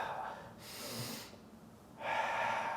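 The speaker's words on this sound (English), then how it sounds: "breathing in and out, breathing in" Audible breaths in and out during a seated chair yoga stretch, with a soft exhale, a pause, then a longer breath, close and fairly quiet.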